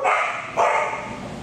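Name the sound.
dogs barking at an animal shelter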